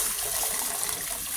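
Water pours steadily into a cooking pot of pork sinigang, a continuous close gushing splash without pauses.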